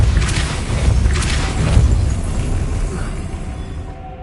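Depulso spell cast in Hogwarts Legacy, a loud, close booming burst that swells and then fades away over a few seconds.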